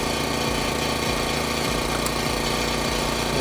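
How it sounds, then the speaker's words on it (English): An air compressor runs loudly and steadily nearby while tires are being inflated, a constant mechanical drone with a low pulsing throb and no voices over it. "That compressor is awfully loud right here."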